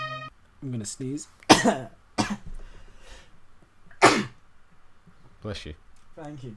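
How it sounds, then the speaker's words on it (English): A person speaks briefly, then two sharp, explosive bursts follow a second or so apart, like a sneeze, with more talking in between and after. "I'm going to sneeze."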